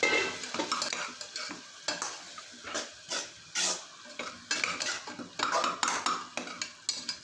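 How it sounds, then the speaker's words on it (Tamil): Salted onion masala for a village-style duck curry fries in oil as a spoon stirs it, with repeated close scraping strokes against the pan over a light sizzle and no talking. "நல்லா கிளறி விட்டுருங்க."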